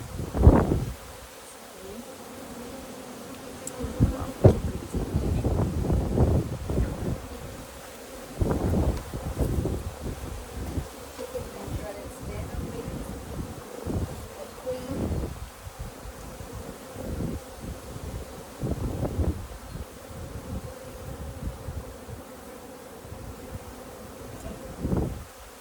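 Honeybees buzz around an opened hive during an inspection, a low droning hum with louder swells as bees fly close past, mixed with rustling and handling noises, no talk.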